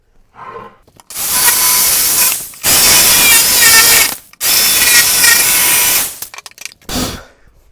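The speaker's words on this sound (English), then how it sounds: "Let's get the jigsaw and get after it." A jigsaw buzzes loudly through wood in three sustained bursts with short pauses between, ending in a few lighter knocks.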